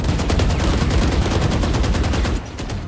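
Rapid automatic gunfire in a Valorant match crackles loud and close in a steady, sustained burst, then drops off abruptly near the end.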